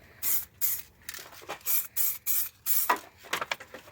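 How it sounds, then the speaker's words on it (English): Spray paint hisses in light bursts inside a Honda Civic engine bay, about eight short close sprays with brief pauses between them. "I'm going to start laying paint down nice and lightly"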